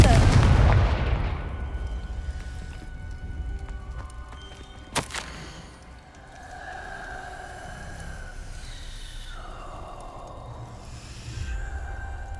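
A Confringo blast spell explodes in the Hogwarts Legacy video game, opening with a loud, broad burst that decays over a couple of seconds, followed by a sharp crack and softer lingering game ambience.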